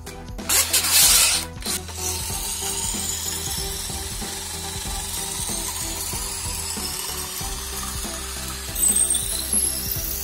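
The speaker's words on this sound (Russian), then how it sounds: "Зажимаем шуруповерт." A cordless drill chuck is tightened for a homemade project built from a simple door hinge, giving a steady close ratcheting click that runs for several seconds after a brief louder burst at the start, with no talk.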